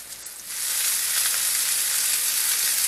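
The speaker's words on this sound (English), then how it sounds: "we'll be back in a couple minutes once this sizzles off" Chicken piccata sizzles in a hot pan, a steady bright crackling fry that swells after a half-second and then holds loud and even, with no voices.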